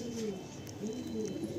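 A restless Madrasi pigeon coos close by, giving a few soft, low, rolling coo phrases over a quiet background.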